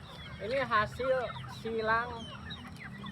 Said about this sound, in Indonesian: Ini asli ayam petelur ya.